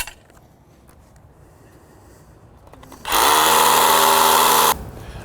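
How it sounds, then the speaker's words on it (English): A power drill bores holes for a patio cover post base, running loud and steady for about two seconds after a quiet stretch, then stopping. "take this off and drill them the rest of the way"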